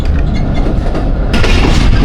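The 130 Down Thal Express runs on the ML2 main line near Mianwali railway station, a loud, close, continuous rumble and clatter of wheels on track that grows brighter partway through.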